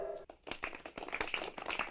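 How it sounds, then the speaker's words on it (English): Scattered clapping from a small audience at a storytelling show, sharp individual claps close by that build into an uneven round of applause, with some light tapping mixed in. "Let's give a round of applause for Marissa"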